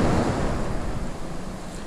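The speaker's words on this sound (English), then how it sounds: "The Atlantic Ocean." Atlantic Ocean surf crashes onto a beach in January while strong wind buffets the microphone, a loud, rough continuous roar of breaking waves and gusts with no voices.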